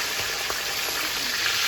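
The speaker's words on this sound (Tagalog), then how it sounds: "Ayan, yung ating prito." Food frying in hot oil in a pan for a chicken feet adobo and fried tuna meal, giving a continuous loud close sizzle with a dense hiss and no voices.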